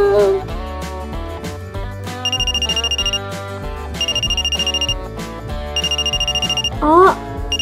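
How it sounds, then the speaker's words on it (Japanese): A phone rings aboard a train, with repeated bursts of an electronic trill sounding at close range over steady train rumble and other sounds. "ママから電話だ。"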